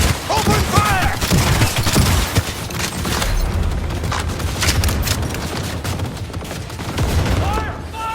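Dense, continuous gunfire rattles through a Cyberpunk 2077 firefight in dense bursts, loud and close, with brief shouted voices breaking through near the start and end.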